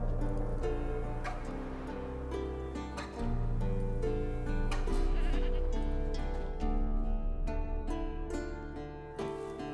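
A goat tied to a stake as forktail bait in the video game The Witcher 3: Wild Hunt bleats repeatedly over a steady layered musical score, the cries close and fairly loud throughout.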